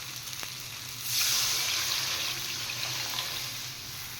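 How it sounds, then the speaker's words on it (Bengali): Water goes into a hot pan of spiced potatoes for a fish and potato curry, setting off a sudden loud hissing rush about a second in that settles into a steady simmering sizzle, close and with no talking. "এবার আমি দিয়ে দেব পরিমাণ মতো জল।"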